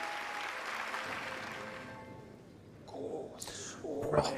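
A crowd applauds in the video game Hollow Knight, a swell of clapping and cheering that fades, then game sounds and a renewed burst of applause near the end.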